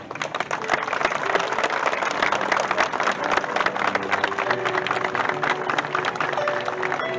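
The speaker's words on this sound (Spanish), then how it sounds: "a quienes le brindamos un fuerte aplauso" A crowd applauds the Roberto Kiener municipal band at a Malvinas Veterans and Fallen Day ceremony in Villa Ángela, with moderately loud, uneven clapping of individually distinct hand claps, slightly sparse and lively, over faint background tones.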